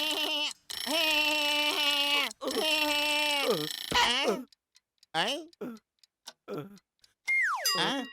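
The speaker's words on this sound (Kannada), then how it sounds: "ಗಡಿಯಾರ ಟಿಕ್ ಟಿಕ್ ಅಂತ ಇತ್ತು." A cartoon clock ticks in an animated Motu Patlu comedy episode, surrounded by bright, sustained tonal sound effects and voices talking between bursts.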